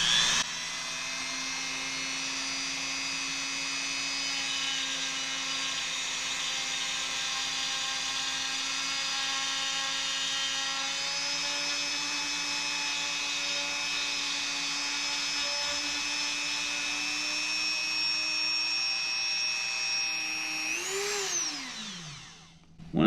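A Dremel rotary tool runs at a steady high-pitched whine, held near and constant for about twenty seconds, then winds down as it is switched off.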